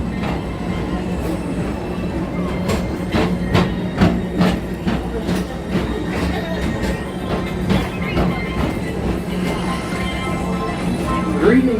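TTA PeopleMover ride vehicle on the Blue Line at Magic Kingdom, Walt Disney World, rolling along its track with rhythmic clicks and rumbling, wheel thumps recurring over a steady background hum.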